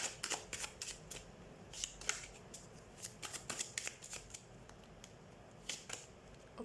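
Tarot cards being shuffled by hand in quick, riffling bursts, close and crisp, with short pauses between rounds and no talking.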